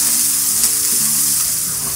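Spices for samosa chaat fry in a pan with a loud, steady sizzle that holds across the whole stretch, crackling gently and broken only by faint stirring scrapes, with no voices.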